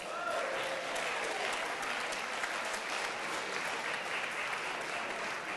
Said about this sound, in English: a round of applause for what we've heard